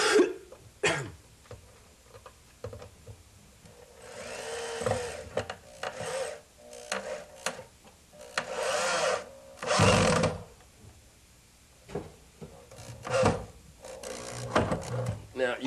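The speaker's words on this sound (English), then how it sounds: "I'm going to be using our variable speed drill to drive them." A variable speed power drill drives screws into a cabinet in several short bursts of varying length, separated by pauses with scraping and handling noises, close by.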